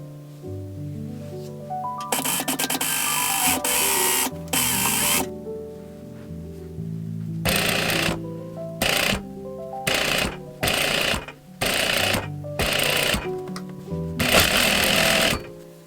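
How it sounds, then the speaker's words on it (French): A sewing machine stitches fabric for a newborn cocoon with angel wings, running in loud bursts of rapid mechanical chatter, one long stretch early then a series of short starts and stops, close by. "piquez entièrement tous les périmètres à la machine à coudre"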